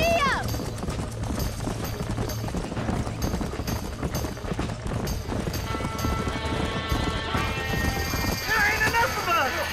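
Horses neigh and whinny while hooves clip-clop and gallop in the Red Dead Redemption video game during a barn fire, with dense continuous hoofbeats and shrill whinnies near the start and end.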